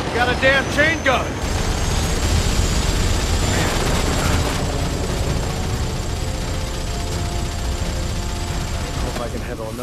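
Helicopter with a chain gun closing in during a Turok battle cutscene, a loud continuous rotor-and-engine roar mixed with gunfire and explosions, with shouting voices over the din at the start.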